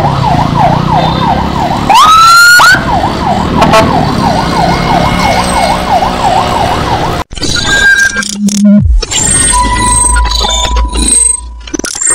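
An ambulance siren on a road leading to a hospital wails in a fast repeating up-and-down pattern, loud and close, with a horn blast, then shifts to other tones and honks amid traffic noise.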